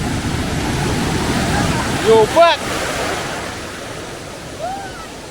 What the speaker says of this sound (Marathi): ओ भाई साहब, लाट बघा